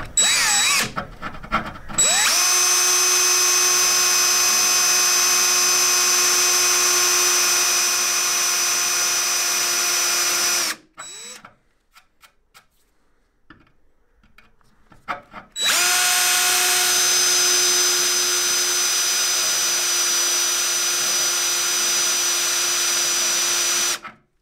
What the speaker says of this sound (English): I'll attach a drill to this end and put my spot weld cutters in here